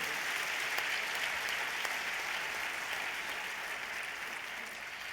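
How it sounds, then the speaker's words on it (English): An audience at a talk event claps steadily, a dense, even wash of applause that holds for several seconds at a moderate level, with no speech over it. "Another round of applause for Jeanette."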